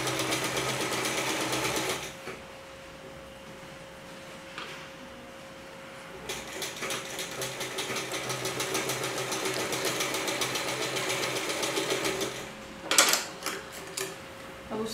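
A sewing machine stitches the seam of a dhoti salwar in short runs of fast, even whirring, pausing between bursts with a few clicks and handling noises and no speech.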